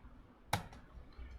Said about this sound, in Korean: 키보드 엔터 치시면